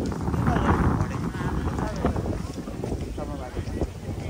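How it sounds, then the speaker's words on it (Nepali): Strong wind on a hiking trail on Mount Takao buffets the microphone in a continuous rushing roar, with a voice speaking faintly underneath. "ओहो हावा त कडै चल्यो नि"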